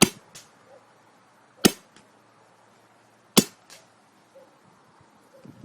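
Empire Axe paintball marker with an upgraded bolt, firing three sharp, loud, isolated shots spaced about one and a half seconds apart, each snapping crack followed by a faint echo in otherwise quiet surroundings.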